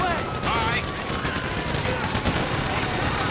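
Rapid bursts of gunfire crackle through a dense, noisy GTA 5 story-mode soundscape during the Paleto Score roadblock fight, with shouted voices layered over the continuous battle din.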